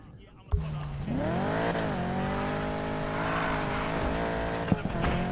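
Race car in Need for Speed Payback drifting, its engine whining at a high sustained pitch over a long screeching tire squeal that starts abruptly and holds for several seconds, loud and close.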